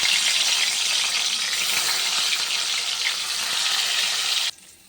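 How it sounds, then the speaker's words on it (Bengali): Katla fish frying in hot oil in a kadai, a steady, loud broadband sizzle with a hissing wash that holds evenly and cuts off abruptly near the end, no voices. "কড়াইতে তেল দিয়ে দিয়েছি, গরম হয়ে গেছে তেল। মাছটা ভেজে নিই।"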